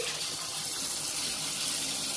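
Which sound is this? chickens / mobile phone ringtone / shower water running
shower water running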